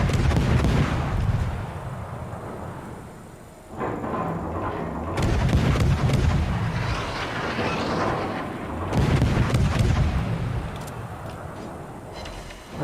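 Heavy naval gun salvos boom in the World of Warships video game, loud rumbling blasts recurring every few seconds with rolling echoes and no voices over them.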